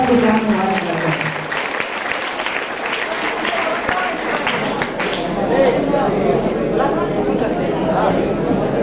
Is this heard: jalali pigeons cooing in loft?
no